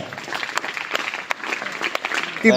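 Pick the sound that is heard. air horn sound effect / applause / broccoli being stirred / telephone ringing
applause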